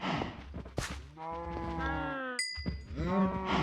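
Minecraft cows moo in a game, several drawn-out lowing calls in close succession, close and moderately loud, with a short bright ding midway and no speech.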